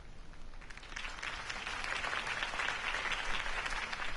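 Crowd applauding after a campaign speech in Batman: The Telltale Series, steady sustained clapping from a large audience that swells slightly and holds throughout, no voices over it.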